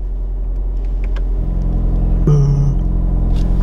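A Hyundai i30N on a test drive, its engine rumbling steadily inside the cabin before a sharper tonal rise as it accelerates, loud and continuous with no talking.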